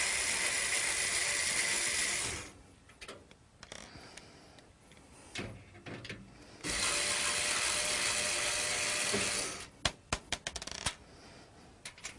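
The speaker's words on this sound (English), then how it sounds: "It's secured by 4 screws on the back. I'm going to simply remove them" A power supply's screws come out of a PC case with a power driver, two long whirring runs separated by faint fiddling, then a few sharp clicks and small metallic taps, close and moderately loud.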